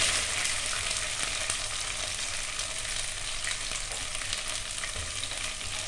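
Steady, dense sizzling and crackling of onions frying in a hot pan, constant and fairly quiet, with no voices.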